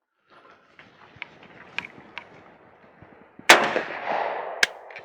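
An original WWII-era semi-automatic rifle fires on an outdoor range: faint mechanical clicks and handling noises lead into one sharp report, followed about a second later by a second, shorter shot.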